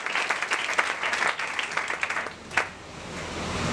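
A congregation at a French-language church worship service claps in acclamation, dense applause that fades out after about three seconds.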